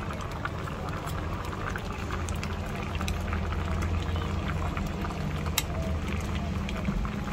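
Vegetables and fish simmering in a covered pot, a steady low bubbling and hiss running evenly throughout, close and moderately loud, with faint clinks.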